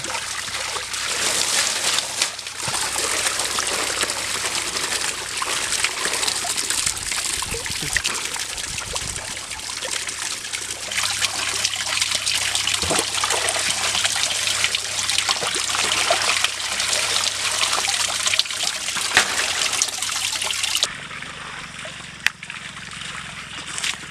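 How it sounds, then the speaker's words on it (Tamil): Water pours and trickles steadily over a palm leaf stalk being washed outdoors, a continuous splashing stream running for about twenty seconds before it stops near the end. "அதே பனமட்டை எடுத்து இப்படி கழுவிக்கணும்."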